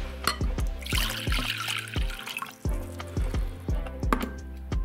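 Warm water poured from a glass into a glass bowl, a steady liquid trickle with repeated light clinks and drips close by, no voices.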